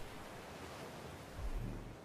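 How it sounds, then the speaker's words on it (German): Steady broadband rushing water from a waterfall in the video game ARK Survival Evolved, a constant close wash that swells slightly louder toward the end, with no talking. "ich wollte hier ein bisschen weiter weg vom Wasserfall"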